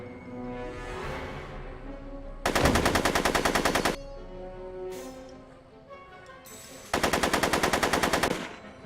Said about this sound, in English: I'm finding it difficult to concentrate with all the bullets flying around my head